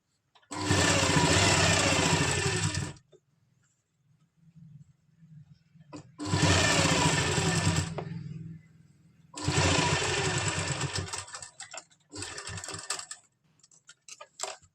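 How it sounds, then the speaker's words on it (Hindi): A sewing machine stitches pleats on an Afghani salwar in three long, loud, close bursts of rapid needle clatter and a shorter fourth run, with quiet pauses between them. "इसको इस तरह से दबाते हुए इसमें हम सिलाई लगा देंगे ताकि इसमें फिनिशिंग आए"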